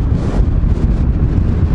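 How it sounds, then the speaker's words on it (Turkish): Wind buffets a motorcycle rider's microphone in a steady, loud rumble that stays dense throughout, with gusting swells and no speech, while the motorcycle is shaken by a crosswind. "Rüzgar yan tarafa doğru esiyor şu anda da var."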